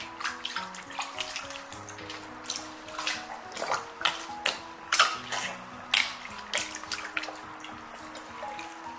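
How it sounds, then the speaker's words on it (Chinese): Running tap water splashing over a whole raw chicken as it is rinsed clean of blood, with irregular clunks and handling knocks from the bird and sink, close and without talk. "把里面的血水和杂质给它清洗掉"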